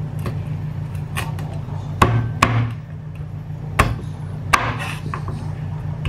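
Ingredients for home-style Hainan chicken rice are cut on a cutting board with a knife, a few sharp, close knocks spaced irregularly over a low steady background hum.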